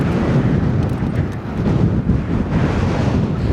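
Strong wind roars across the microphone of someone riding a bike, a loud, continuous, broadband rush that stays steady throughout and has no talk over it.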